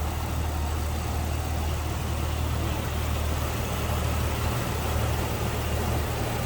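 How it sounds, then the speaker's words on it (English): The inline-six engine of a 1999 Jeep Wrangler Sport idles with the hood propped open, a steady low rumble that stays smooth and even throughout, close by with no voices. "Very smooth running, inline six"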